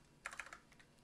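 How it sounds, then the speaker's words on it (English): Computer keyboard typing, a short quick burst of about five soft key clicks, faint and close, with no talk. "So I'm going to type in the button name is pin"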